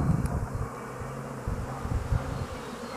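Honeybees at beehive number 9 give a low, steady buzzing drone close by, with some wind rumble over the microphone and no talking.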